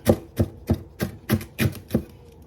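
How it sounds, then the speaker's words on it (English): A knife roughly chops bok choy on a board, seven firm, evenly spaced strokes with a steady rhythm and no talking. "Rough chopping."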